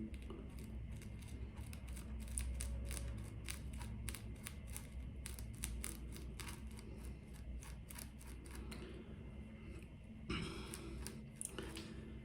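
Repeated crisp snips and crunchy cutting strokes from scissors working through material, close up, with brief pauses and a soft rustle between cuts.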